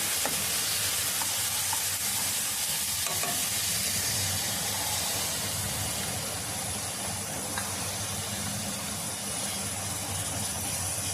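Goat leg curry with masala fries in a pan, a loud dense continuous sizzle close up throughout with faint stirring.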